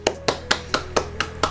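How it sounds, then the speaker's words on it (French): Seven crisp hand claps from a small group or a single person, evenly spaced in a quick steady rhythm, close and fairly loud with no talking. "On peut s'applaudir"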